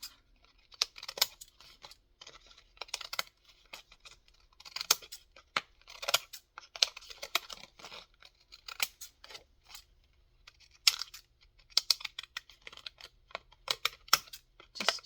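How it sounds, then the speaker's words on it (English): Scissors snip through paper for a junk journal in a quiet room, a steady series of short, crisp cuts in irregular clusters, close and fairly soft. "Let me get my these scissors and just see if I can't."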